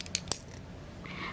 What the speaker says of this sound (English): that noise is because the needles are getting tangled in that inside notch